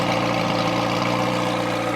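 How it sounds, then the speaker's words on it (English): A McLaren 720S fitted with a Ryft wing exhaust rumbles steadily up close, a loud, continuous low engine drone with no distinct rev spikes, alone without talk. "That is a nasty sounding exhaust."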